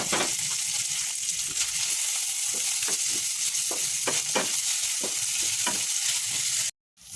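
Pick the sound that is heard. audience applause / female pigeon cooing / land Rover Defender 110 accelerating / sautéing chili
sautéing chili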